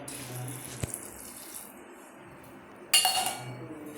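Water runs from a tap with a faint clink, then a louder splash of washing under the stream.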